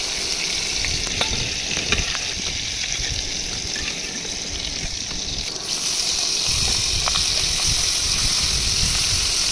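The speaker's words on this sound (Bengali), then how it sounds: "চিংড়ি মাছগুলো ভাজা হচ্ছে" Prawns frying in oil for a yogurt prawn curry, a loud, continuous, close crackling sizzle that swells slightly toward the end, with no talk.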